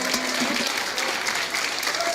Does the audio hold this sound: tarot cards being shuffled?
no